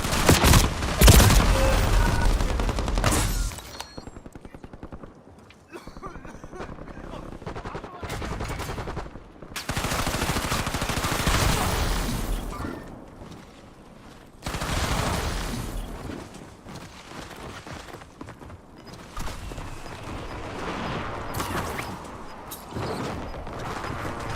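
Video game gunfire, with rapid machine-gun bursts and scattered shots coming in loud waves, broken by short quieter gaps.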